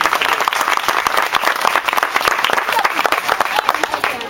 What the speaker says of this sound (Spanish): quiero que ustedes le den un fuerte aplauso a Luis Pavolo